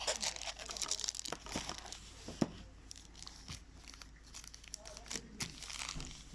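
Transparent plastic bag with an LED torch inside crinkles and rustles in close, irregular bursts, with a sharp crackle near the middle and softer handling noise throughout.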